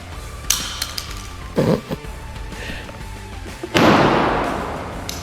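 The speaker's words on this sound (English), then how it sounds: "you want to give it a good firm press, drop that mag out of it" A magazine released from a Smith & Wesson Bodyguard 2.0 .380 compact pistol, heard as a few close metallic clicks and a thud, then a louder clatter as it drops onto a hard surface.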